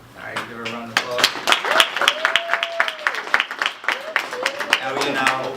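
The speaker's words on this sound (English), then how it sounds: "give her a round of applause" Applause breaks out for a finance chair after her speech, with clapping rising and continuing while voices talk and call out over it at close range.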